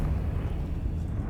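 A Confringo fire spell from Hogwarts Legacy rumbles in a low, sustained blast that holds steady throughout, dense and heavy with no clear separate impacts.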